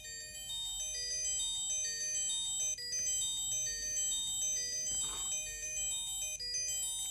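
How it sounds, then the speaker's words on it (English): A synthesized phone ringtone plays a bright, repeating melody of high electronic tones, steady and fairly loud, with a brief pause near the middle before it continues. "so let's check out the ringtone."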